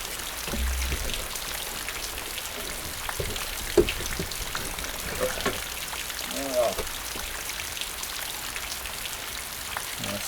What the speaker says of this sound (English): I'm gonna listen to the rain anyway,